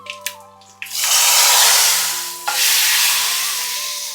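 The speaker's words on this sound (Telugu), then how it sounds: "ఫ్రై చేసుకున్న పోపుని అయితే మరుగుతున్న సాంబార్లో వేసుకుందాం" Fried tempering is tipped into boiling sambar, setting off a loud burst of sizzling that swells, dies down slightly, then flares again with a second splash before tapering off, following a few quieter clinks.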